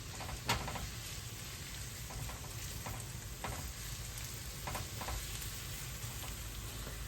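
Sliced kielbasa sautes in a pan with a soft, constant crackling sizzle, punctuated by a few stirring clicks and scrapes, moderately distant and without speech.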